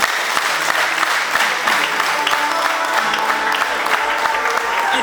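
Church congregation clapping, a loud, continuous burst of applause from a crowd close by, filling the whole moment without talk.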